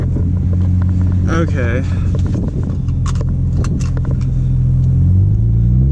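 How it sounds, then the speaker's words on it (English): Flywheel chatter from a BMW E46 M3 being street drifted, heard from inside the car as a loud, steady engine rumble with rattling underneath, while a voice speaks briefly over it. "Don't mind the flywheel chatter"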